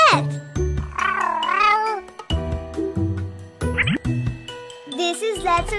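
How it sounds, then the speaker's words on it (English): A cartoonish cat meows several times in a row, bright sliding calls with tinkling jingles and musical tones mixed in. "C is for cat."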